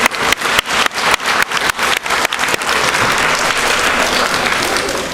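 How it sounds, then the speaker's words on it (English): An audience at an 8th grade graduation at a math and science academy gives a round of applause: a few loud, separate claps at first, then swelling into close, sustained clapping from the crowd. "Can we give one more round of applause, please?"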